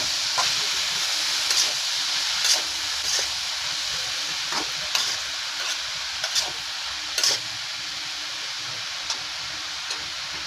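Chopped bottle gourd sizzles and hisses in a hot pan while a spatula stirs it, knocking against the pan in irregular, separate taps over a steady frying hiss.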